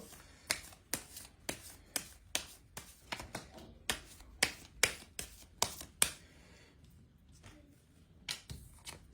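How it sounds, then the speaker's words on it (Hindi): Tarot cards are shuffled in a steady run of crisp riffling slaps and taps, about a dozen sharp bursts spread over nine seconds, close and clear with no voice. "एक बार दोबारा शफल करते हैं कार्ड्स को"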